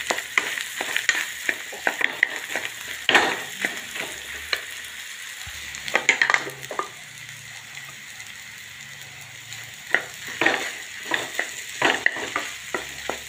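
Vegetables for a jowar dosa are stirred in a pan, giving repeated sharp clatters of a spoon against the pan over a soft sizzle that continues through the stretch, with no one talking.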